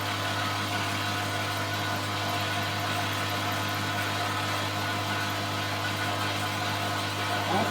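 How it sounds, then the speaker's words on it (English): A workshop air compressor runs steadily throughout, a continuous motor drone with a strong low hum that holds level from start to finish, alone without talk. "Oh, you hear my compressor going on."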